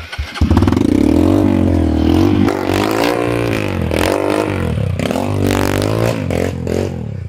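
A trail motorcycle engine starts up and revs loudly and close by, the pitch rising and falling through repeated throttle blips, with clattering and scraping mixed in.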